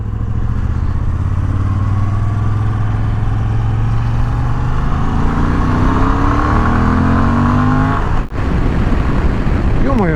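A Moto Guzzi V85 TT motorcycle with an 80 hp engine, recorded while riding, drones loudly and close. Its pitch climbs steadily under acceleration, with a brief dip around a gear change near the end.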